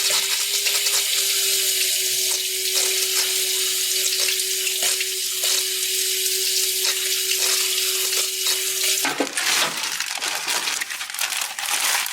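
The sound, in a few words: water flushing through 1962 AMC Rambler engine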